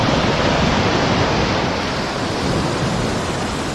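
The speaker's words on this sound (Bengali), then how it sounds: "ঢেউয়ের আওয়াজ পাচ্ছেন আপনারা।" Sea waves breaking on the beach at Mousuni Island, a continuous loud, broadband wash of surf with no distinct individual breaks, steady throughout and heard alone.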